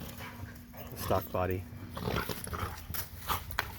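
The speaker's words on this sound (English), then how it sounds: "Dogs are going crazy." Several dogs bark excitedly in rapid, overlapping bursts nearby while someone talks over them during an overview of an RC speed basher.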